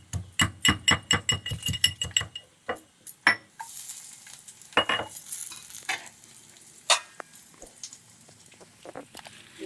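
Garlic goes into a hot pan for bobbarlu fry with a burst of rapid, rhythmic stirring clatter, followed by a softer sizzle, occasional utensil clinks and scrapes, close-up and without speech.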